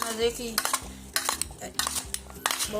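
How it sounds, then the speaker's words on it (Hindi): A spoon stirring fruit chaat in a bowl, with repeated clinks and scraping knocks in an irregular rhythm, close and clear, with no voices. "अब हम इसको मिक्स कर लेते हैं।"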